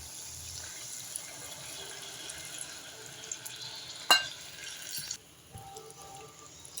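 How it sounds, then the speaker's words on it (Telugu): Tamarind juice is poured into a pan of frying chicken, a quiet trickling pour over a faint sizzle with a brief sharp clink midway before the sound drops lower. "ఇప్పుడు చింతపండు రసం ఇందులో పోయాలి"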